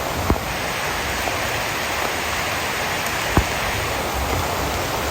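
Steady rain pours down in a Philippine yard, a dense even hiss of falling drops with a couple of brief sharp taps, no voices.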